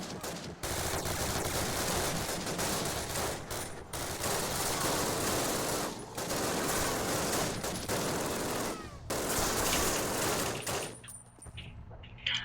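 Continuous loud bursts of FG-42 automatic gunfire in Call of Duty, rapid and sustained, with brief gaps between volleys.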